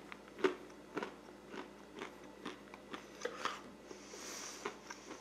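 Crunchy bites and chewing of an MRE Meal Cold Weather ration snack mix, heard as close, quiet crunches in an irregular rhythm with a brief crinkle near the end.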